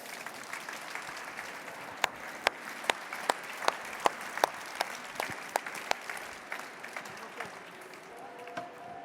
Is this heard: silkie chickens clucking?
no